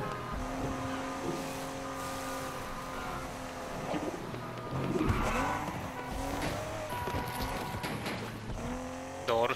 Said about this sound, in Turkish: Doğru sür şu arabayı.